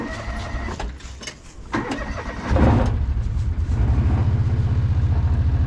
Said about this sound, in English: Pull the choke, give it a little bit of gas.